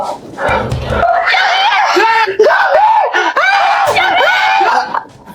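Loud, shrill screaming fills nearly the whole clip, rising and wavering in pitch, with excited voices overlapping.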